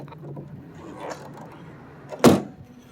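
A single solid thump of a car door shutting on a Lancia Zagato, close and sharp after a few quiet moments of faint handling noise.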